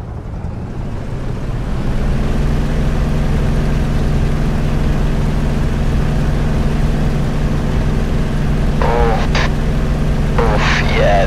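A simulated F4U-4 Corsair piston engine during a carrier takeoff in War Thunder: a loud, steady droning roar with a strong low hum that swells in the first seconds and then holds, with brief chirps near the end.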